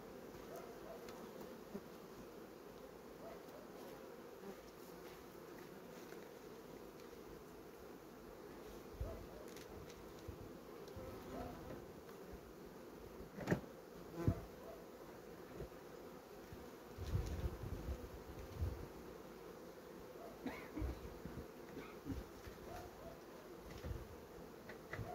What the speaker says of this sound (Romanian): Bun, deci aici pe rama aceasta avem albina, cât să mai acopere ea din cuib, da?